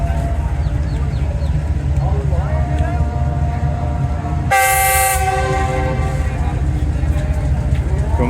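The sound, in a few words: departure horn of Tezgam express train at Pattoki station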